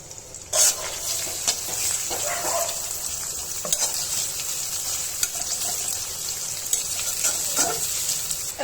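Onion and green chili sizzle in a hot pan for frying bitter gourd, a constant close crackle punctuated by clattering stirs and utensil knocks.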